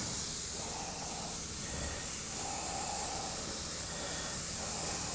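Airbrush spraying black paint onto a biomechanical skull design, giving a continuous close, even hiss of air with no pauses and no talking.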